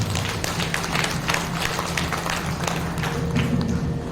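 An audience claps loudly at a Shrimad Bhagavat Katha religious gathering in Mayur Vihar Phase 2, with dense, continuous hand-claps that stay strong throughout.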